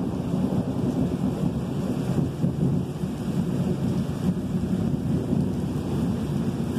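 Thunderstorm in San Antonio with steady rain and rolling thunder, a continuous loud wash of rain noise with low rumbles throughout and some wind buffeting on the microphone.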